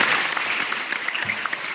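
A short burst of applause, brisk scattered clapping at moderate loudness that thins out quickly.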